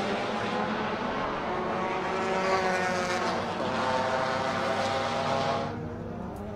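A Bobby Lane Racing Honda Accord race car running on track at Circuit of the Americas during a Super Lap Battle. The engine drones with shifting pitch for several seconds, then drops off and fades as the car moves away.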